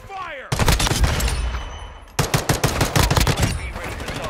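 Automatic gunfire in Call of Duty: Modern Warfare II, loud close bursts of rapid shots that break off briefly and then resume in sharp repeated volleys.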